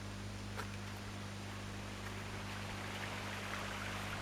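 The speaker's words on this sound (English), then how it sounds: "Getting the water sound effect even though there is no water" Running water effect in the video game Gold Rush, a steady, soft stream-like hiss with faint rustling texture, continuous and even throughout without talk.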